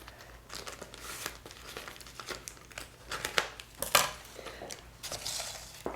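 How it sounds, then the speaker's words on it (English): Scissors cut through the sealed edge of a plastic bag in a kitchen, a run of close crinkling snips and rustles with a few sharper clicks near the end, no talking. "I'm going to cut the sealed edge off."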